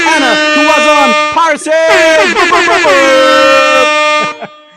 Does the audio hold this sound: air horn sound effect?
yes